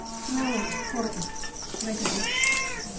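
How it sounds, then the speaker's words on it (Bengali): A village cat meows repeatedly, several drawn-out whining calls close by, with a person's voice talking around the meows. "এই বিড়াল"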